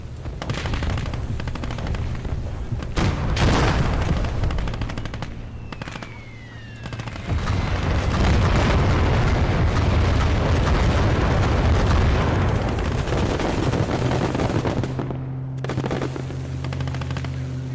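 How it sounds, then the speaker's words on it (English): Naval artillery barrage in the World War II game Call to Arms - Gates of Hell: Ostfront, with heavy booming blasts and rapid gunfire that rumble almost continuously, loud and dense, with a brief lull midway. "We got our naval artillery here."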